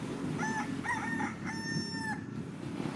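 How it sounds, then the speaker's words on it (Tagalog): A rooster crows several times in a row, clear and fairly near, with a faint rumble of background noise underneath. "Naririnig ko na naman ang tilaok ng mga manok ng kapitbahay namin."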